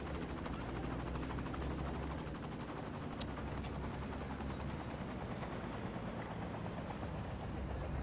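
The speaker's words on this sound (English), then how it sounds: "So these are the helicopters we're using." Military helicopters in the city-building game Cities: Skylines, a continuous loud rotor chop and turbine roar, steady and close throughout with no talk.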